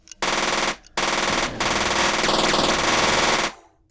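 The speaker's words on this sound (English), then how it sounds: "With many hit points, we need to do burst fire." Bursts of automatic gunfire from the video game UFO Aftermath: loud rapid-fire rattles in three sustained bursts separated by brief silences, heard alone.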